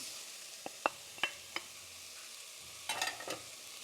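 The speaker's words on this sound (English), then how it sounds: "I'm going to add in our mushrooms." Mushrooms tipped into a hot pan with garlic for stewed lentil peas, giving a few sharp clacks and stirring scrapes over a faint sizzle, then a brief cluster of rattling sounds near the end, with no talk.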